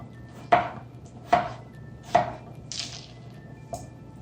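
A knife chops potatoes on a cutting board for a 4-H cooking camp, three clear, evenly spaced thuds followed by a couple of softer cuts, close and alone with no talking.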